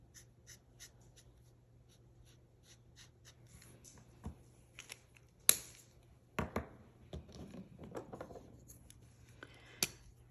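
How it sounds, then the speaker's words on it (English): Greenery being colored in on a handmade Mother's Day card: faint, scratchy pen strokes come in short intermittent bursts, with a few sharper taps and rubs, close up and without speech. "I'm going to start coloring in some of my greenery."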